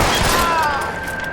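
Gunfire breaks out inside the city archive in the L.A. Noire video game, a dense, loud burst of overlapping shots heard close up, fading slightly toward the end.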